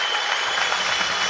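A fight-event crowd in Rostov applauding the fighters after a bout, a steady wash of clapping throughout, fairly loud and unbroken.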